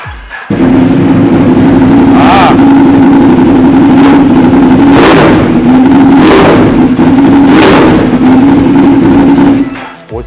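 Ducati Monster 821 Performance motorcycle with aluminium valve covers, its engine running steadily close by with a low, even tone and a few brief louder blips spaced through, some talk over it.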